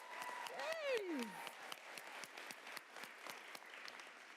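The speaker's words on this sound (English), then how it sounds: "So clap like you did it." An audience claps steadily in a broad wash of applause, with a voice briefly rising and sliding down near the start.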